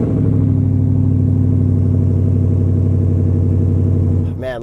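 Supercharged V8 of a 2023 Ford Raptor R revving, a loud, deep, steady rumble with rich low harmonics held for several seconds before dropping off abruptly near the end.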